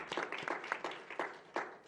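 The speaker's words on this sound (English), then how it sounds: "Give yourselves a big round of applause," An auditorium audience at an education conference claps for school staff, a moderately faint spread of applause with a few louder bursts of hand claps, heard without talk.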